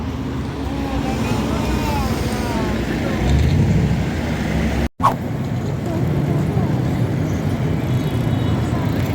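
Street traffic in Tirana, Albania, with an airport bus nearby: a steady mix of passing cars and heavy vehicle rumble, moderately loud, with a brief dropout midway and no talking.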